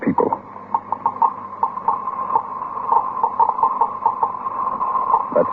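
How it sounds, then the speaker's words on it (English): A Geiger counter detecting radioactivity ticks with irregular, scattered clicks, moderately loud, over a steady humming tone in an old radio drama. "That sound is being made by a Geiger counter, a device for detecting radioactivity."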